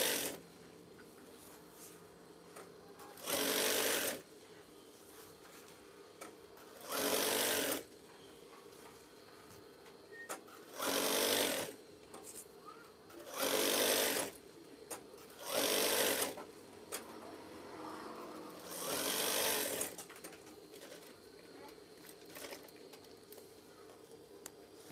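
A sewing machine stitches curtain fabric in about seven steady bursts of a few seconds each, with quiet pauses between runs and a low background hum throughout.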